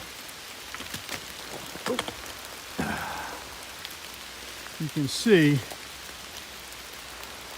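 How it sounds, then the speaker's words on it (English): Steady patter of rain on a forest trail on the Appalachian Trail, with scattered drops, while a person speaks briefly partway through. "it's still raining"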